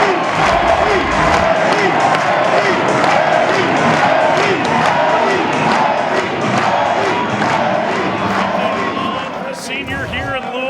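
A packed ballpark crowd at a Louisville–Miami NCAA baseball super regional roars loudly after a go-ahead base hit, with dense cheering and whoops that stay high for ten seconds before easing slightly.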